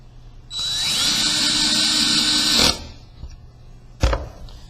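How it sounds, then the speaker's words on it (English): A power drill drives a screw into wood through a countersink pilot hole, one steady whining burst of about two seconds that stops abruptly, followed by a brief clunk, with no talk. "And then we can simply drive the screw."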